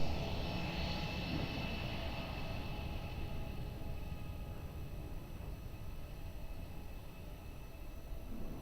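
An Embraer 195 departs runway 02 at Lisbon Airport, its jet engines producing a steady, broad roar with a faint whine that eases slightly in loudness as it continues.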